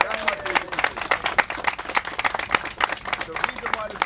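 Crowd applause at a groundbreaking ceremony for a new Jetro facility in the Bronx, steady clapping from many hands nearby, with a speaker's voice over it.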